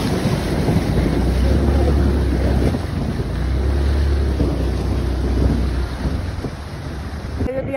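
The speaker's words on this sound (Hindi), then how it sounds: "यहाँ पे बहुत तेज हवा चल रही है" Strong wind gusting through a Himalayan mountain valley near Mana, roaring and buffeting the microphone with deep low rumbles that swell and ease in waves, loud and close throughout.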